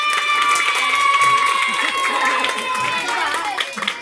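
Guests at a seventh birthday party clap and cheer as a crowd, a lively burst of applause blended with chatter and excited voices talking over it.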